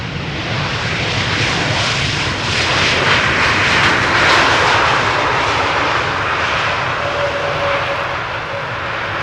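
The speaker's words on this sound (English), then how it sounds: "A320neo." Airbus A320neo jet airliner arriving over the Polderbaan runway at Amsterdam Schiphol, a loud broad engine roar that swells to a peak midway and slowly fades, no talk over it.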